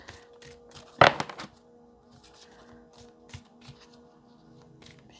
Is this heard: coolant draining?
no